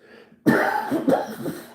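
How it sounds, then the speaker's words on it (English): A single harsh cough bursts out suddenly and close up, followed by a rough throat-clearing rasp, alone with no talk. "Holy shit, I just coughed."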